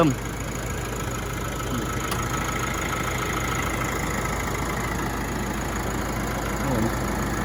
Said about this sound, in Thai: ดี๋ยวเรามาดูห้องเครื่องนะครับผมให้ดู ทีละ ดูให้ช้านะครับฟังฟังเสียงเครื่องด้วย